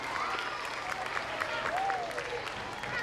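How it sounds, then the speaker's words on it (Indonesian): An audience at a kindergarten and primary school farewell and graduation ceremony claps steadily and warmly for the children, with an announcer's voice carrying over the sustained applause. "Kita beri tepuk tangan yang meriah untuk anak-anak kita."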